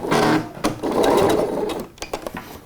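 Sewing machine stitching a seam on a garment: a loud close whirring run of stitching that pauses briefly, resumes, then breaks into a few short stuttering bursts, with no voices.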